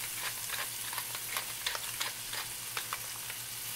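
A burger patty sizzles in a cast iron pan, a close, steady hiss dotted with quick crackles and pops over a low hum, with no voices.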